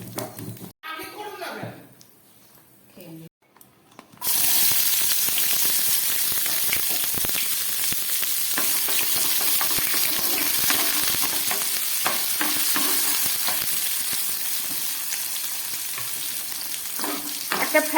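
Oil heated in a frying pan with five-spice tempering added, ready for Bombay duck fish: after a quiet start, a steady, close, loud sizzle crackles on without a break.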